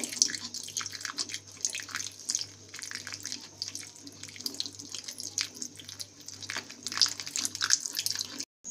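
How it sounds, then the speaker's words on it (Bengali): Water trickles little by little into an egg chilli batter as it is mixed by hand, a soft continuous wet splashing and stirring close by, with no voices. "এখন অল্প অল্প করে জল দিতে থাকবো আর ব্যাটারটা গুলতে থাকবো"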